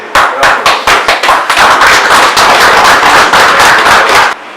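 Loud applause from an audience at an energy launch event, starting as distinct sharp claps and swelling into dense, continuous clapping before stopping abruptly.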